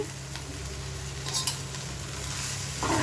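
Fish curry with fried potatoes being stirred in a pan, a soft steady sizzle with faint scraping of the spoon, one brief clink near the middle.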